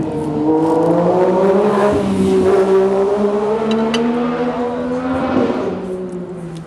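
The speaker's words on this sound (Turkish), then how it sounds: "Gürültü kirliliği ya şu egzozlar." Loud, close car exhaust rumbles steadily with a throaty engine drone that rises and falls slightly as it revs.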